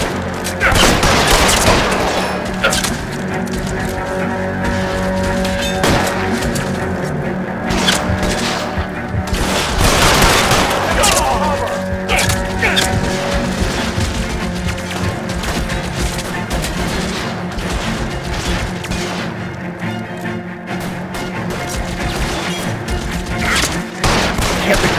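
Gunfire during a hangar shootout in L.A. Noire, with dense, continuous bursts of shots and heavy booms sustained throughout over a busy game soundtrack and ambience.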